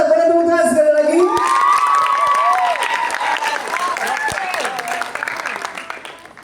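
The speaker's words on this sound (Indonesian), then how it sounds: "Boleh tepuk tangan sekali lagi." A crowd at a Ramadan iftar gathering in Purwakarta claps and cheers loudly, with shouting and whooping voices that rise then slowly fade out.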